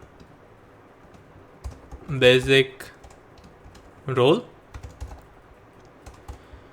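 Several short bursts of clicking keystrokes on a computer keyboard, typing a role name in the AWS console. Someone speaks Hindi between the bursts, and the keys are heard close and crisp.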